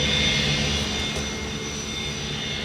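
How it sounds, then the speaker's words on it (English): Small single-engine aircraft in flight along the Mexican coast, a steady, droning engine roar with a faint high whine, heard from inside the cabin with no talking. "flying in small single-engine aircraft"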